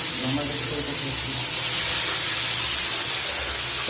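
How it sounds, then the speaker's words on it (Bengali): Fish sizzles in hot mustard oil, a loud, close, unbroken hiss of frying with faint voices underneath. "মাছ এবার ভাজাও শুরু হয়ে গেছে"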